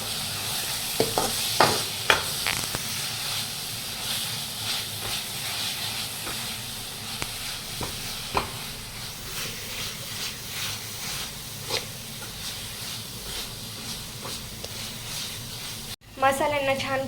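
Chole masala spices sizzling in oil while being stirred, with a continuous hissing fry and periodic utensil scrapes, then a sudden louder burst of activity near the end.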